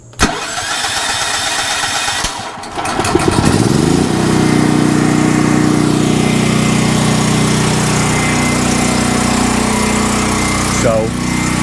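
A 7000 watt generator running on LP cranks briefly, then starts and settles into a loud, steady running drone close by, with a short rattle near the end; no speech is evident.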